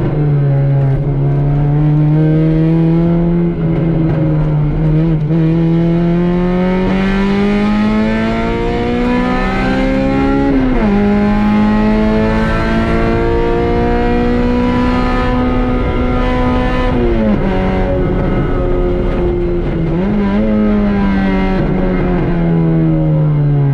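A race car on a track revs loud and close, its engine pitch climbing steadily through each gear and dropping sharply at every shift, over about twenty-four seconds of continuous acceleration with no voices.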